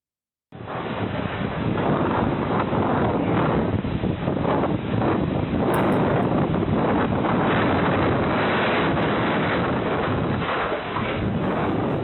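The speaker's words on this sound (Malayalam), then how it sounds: "ഇന്ന് പുലർച്ചെ 2 മണിയോടെയാണ് കാറ്റ് വീശിയത്" Strong cyclone wind striking a CCTV camera at about 2 a.m. in coastal Chellanam, Kerala, a loud, steady roaring rush of gusting air that buffets the microphone without a break, with no voices.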